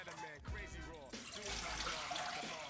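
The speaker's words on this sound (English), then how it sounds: "pour 3 cups of that vegetable or chicken broth that you have" Vegetable or chicken broth is poured into a medium-sized pot on medium heat, a short, close splashing stream of liquid that grows fuller partway through.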